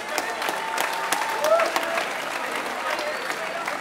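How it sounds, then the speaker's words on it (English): A crowd at a fight event applauds both fighters after a 59 kg bout, with moderate, somewhat distant clapping that holds steady throughout. "a round of applause for both fighters"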